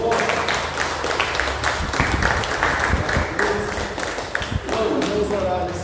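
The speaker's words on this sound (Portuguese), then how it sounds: "Aplauda o Senhor." Church congregation applauding the Lord during a worship service, a dense, steady wash of clapping that runs throughout, mixed with voices and some music underneath.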